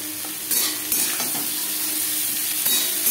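Teasel gourd (kakrol) goes into green chilies frying in oil for Bengali-style kakrol bhaja, making a loud, close, steady sizzle. Scraping stirs come through in a few bursts, with no talk.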